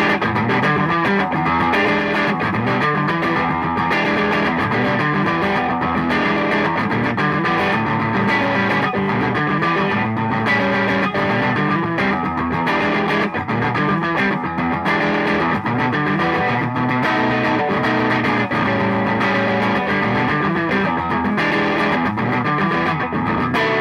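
A Pinter SB1 electric guitar played in a bluesy style with the pickup selector set between pickups, driven through distortion and effects in a continuous, full, loud passage with no talking.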